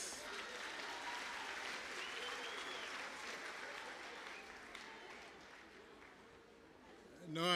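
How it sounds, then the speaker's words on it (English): An audience at a National Human Rights Day ceremony claps in a sustained round of applause that holds steady, then thins a little, before a voice cuts in loudly at the very end. "A big round of applause"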